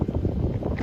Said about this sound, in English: So sorry about the wind noise.